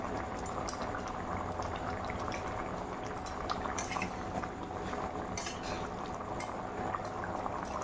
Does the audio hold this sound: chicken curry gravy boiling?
yes